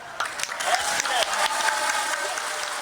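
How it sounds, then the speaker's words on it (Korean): Control-room staff burst into applause and cheers as India's Chandrayaan-3 touches down on the moon, a dense, steady wash of clapping from many hands, close and loud, with some voices mixed underneath. "상황실에서도 박수와 환호가 쏟아졌습니다"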